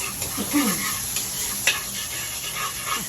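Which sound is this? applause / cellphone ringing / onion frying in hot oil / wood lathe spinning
onion frying in hot oil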